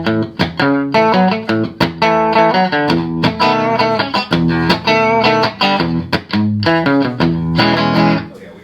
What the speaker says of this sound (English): Now this is a Rickenbacker made Electro, and it's still a Rickenbacker instrument made for other dealers.